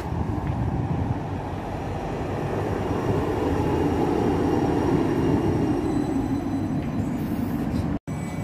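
A steady, loud rumble of a Stagecoach Supertram tram train pulling away from Rotherham Parkgate, its low mechanical drone rising slightly and then easing, with a faint high whine above it.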